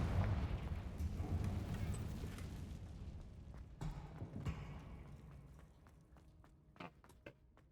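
A Confringo blasting spell from Hogwarts Legacy goes off as a heavy explosive boom with rumbling debris that gradually fades, followed by a few scattered impact thuds trailing away.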